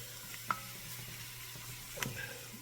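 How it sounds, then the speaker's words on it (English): Chopped vegetables sweating in a flour-and-oil roux for gumbo give a quiet, steady sizzle, broken by two soft clinks of stirring. No one speaks. "It's going to start sweating the veg."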